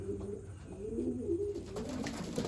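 A racing pigeon in its loft coos softly and nearby, a few low warbling phrases rolling one into the next, with light background rustle.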